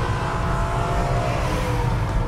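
A BMW M3 E90 with its V8 engine roars steadily and loudly, a dense, continuous snarl with no voices over it.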